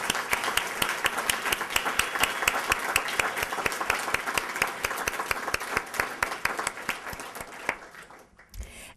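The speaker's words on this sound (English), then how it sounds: "I'd just like to give a resounding round of applause for all the presenters and our distinguished students today" Audience applause at an honors convocation at State College of Florida in Venice, a dense, steady clapping from a large crowd that carries on loudly and then thins out and stops near the end.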